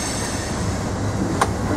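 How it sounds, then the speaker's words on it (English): A freight train on the railway near the Fort Madison yard and bridge over the Mississippi, heard from a stopped passenger train as a steady, loud, continuous rumble with a faint squeal, with no talk. "There's a freight train in front of us."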